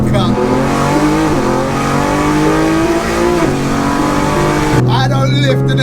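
A 1400bhp BMW launching hard, its engine screaming at high revs with strong rising and shifting harmonics, loud and close, with a sharp change near the end and voices partly audible over the roar.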